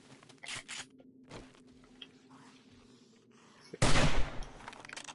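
Shotgun fire at a group of zombies during horde night in 7 Days to Die: a few fainter scattered shots early on, then one loud, close blast with a short ringing tail near the end, with no talking.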